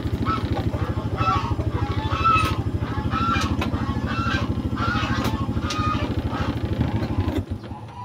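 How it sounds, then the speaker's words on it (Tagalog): Geese and ducks honking continuously as a crowded flock, nasal calls overlapping close by with a steady low rumble underneath. "Nandun po yung mga pato. Ayun, may gansa."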